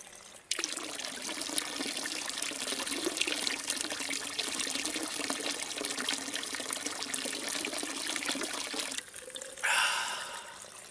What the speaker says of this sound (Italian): Fontanella. Bella fresca.